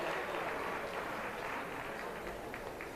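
A livestock show crowd gives a steady round of applause for the market goat exhibitors, with dense, even clapping that holds at a constant level for the whole stretch and no voices over it.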